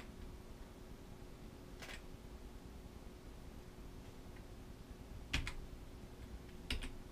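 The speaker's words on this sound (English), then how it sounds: "I'm just using the keyboard right now." A handful of sparse, quiet computer keyboard key presses, used while setting up software for a Raspberry Pi handheld build, come in isolated clicks and short bursts over a steady low background hiss, with no talking.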